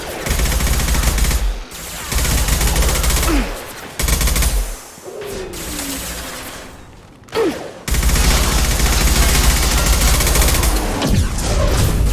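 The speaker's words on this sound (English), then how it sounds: "Firing concussive shot!" Concussive shots and rapid gunfire in the video game Mass Effect 2, a loud, dense battle barrage broken by brief pauses, with heavy booming impacts and occasional whooshing shots cutting through the din.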